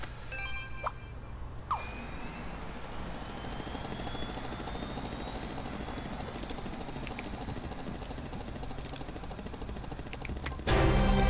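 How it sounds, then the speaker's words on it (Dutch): A helicopter spawned in the video game Scribblenauts Unmasked gives a steady, loud rotor and engine drone that holds for the whole stretch, with a few brief electronic chirps early on and a sharp burst near the end. "We gaan even een helikopter spawnen."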